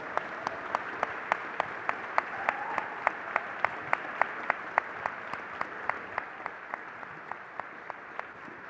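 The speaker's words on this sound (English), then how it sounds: "Ladies and gentlemen, please join me in giving our panelists a warm round of applause." A symposium audience applauds its panelists: a steady wash of clapping runs throughout, with one sharp, evenly spaced clap standing out close by.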